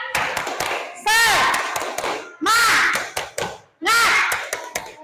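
A class of schoolchildren claps out a rhythmic spirit clap in a classroom, with quick sharp bursts of hand claps between group chants. The voices and claps alternate in several loud, close rounds.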